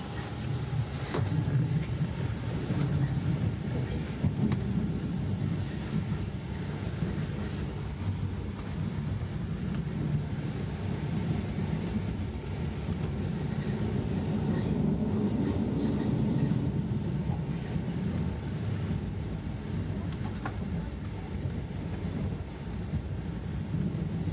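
Steady rumble and rattle of travel on board an HST train, continuous low-frequency running noise throughout with a Class 170 unit alongside, no speech.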